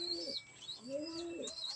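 A pigeon or dove calls outdoors, with two or three soft, rising and falling coos in quick succession, faint and at a moderate distance, with no talking.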